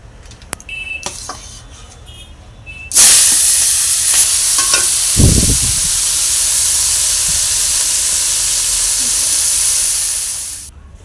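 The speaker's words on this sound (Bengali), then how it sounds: "এখানে তেল গরম হয়ে গেছে এবার একটা চিংড়ি মাছটা ভেজে নেবো" Prawns dropped into hot oil in a wok burst into a loud, steady sizzle that holds for several seconds before fading at the end, preceded by quieter kitchen clatter.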